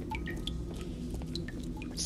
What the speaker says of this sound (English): The water dripping and shit. Sounds real good.